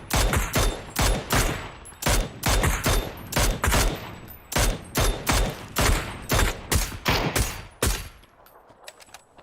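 Automatic gunfire during a video game tournament match, with about a dozen sharp, loud bursts in an uneven rhythm that thin out toward the end, close and clear, with no talking.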